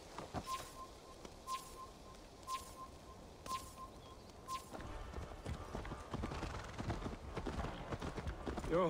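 Horse hooves gallop in a steady clip-clop rhythm in the video game Assassin's Creed Valhalla, fairly close and clear, with an occasional whinny and faint birdsong over an outdoor ambience that thickens toward the end.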